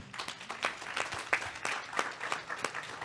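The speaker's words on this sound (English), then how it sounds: "Let's give him a round of applause." An audience at a town hall gives scattered, moderately faint applause made of distinct claps at an uneven rhythm.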